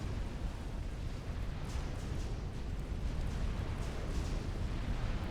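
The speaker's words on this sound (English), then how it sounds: "A lot of inbound Viper fire." Incoming Viper fire pounds a battlefield in the strategy game Supreme Commander, a dense, continuous roar of overlapping explosions and rumbling booms with no let-up and no talk.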